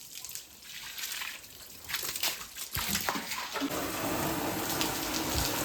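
Water from a hose gushes and splashes across the floor of a poultry shed being washed down, a steady broadband rush that swells louder partway through, with no talking.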